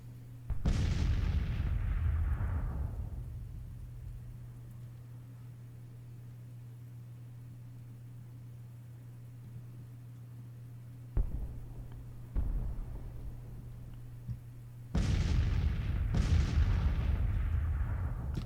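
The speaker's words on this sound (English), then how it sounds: "Our guns just can't seem to get a shot anywhere" Artillery cannon fire in a Civil War strategy video game: heavy booming shots with long decaying rumbles, several spaced apart and a couple fired close together near the end, over a steady low hum.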